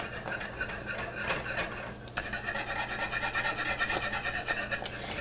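A whisk scrapes rapidly around a pot of thick polenta to break up lumps, a close, rhythmic scratchy rasping that pauses briefly, then resumes faster and steadier.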